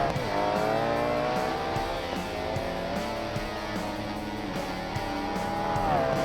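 A twin-turbo 3.9-litre V8 Civetta Bolide, running nitrous in quarter-mile drag trim in BeamNG, holds a loud sustained engine drone whose pitch climbs and settles. It runs steady and close throughout, with no talk.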